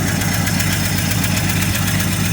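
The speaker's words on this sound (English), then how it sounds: "that's sitting there idling really nice" A car engine idles steadily and loudly up close, a continuous rumbling throb with a faint rhythmic knock and no talking.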